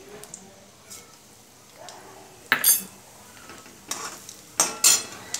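Cumin seeds tipped into hot oil already crackling with mustard seeds for Maharashtrian kanda poha, bursts of sharp sizzle and clinks of a metal spoon against the pan, loud and close.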